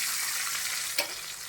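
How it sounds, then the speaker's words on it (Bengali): Potato and tomato chunks fry in oil for a paneer curry, a steady close hiss of sizzling with one brief stirring knock about midway. "এই তেলের মধ্যে আমি একটা আলু নিয়েছি, আলু কটা ভেজে নেব"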